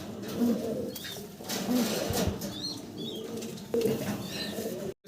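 A breeding pair of pigeons, a Bontinet Classic and a Bontinet Silver, heard close by with soft cooing and bursts of flapping wings in a small enclosure.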